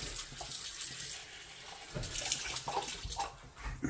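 Water runs from a tap into a sink, a quiet steady splashing stream with a few small clinks near the end.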